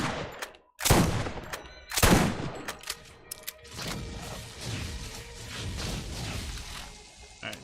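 Shotgun blasts in the Borderlands video game, two heavy booming shots about a second apart, followed by further rattling gunfire and impact noise.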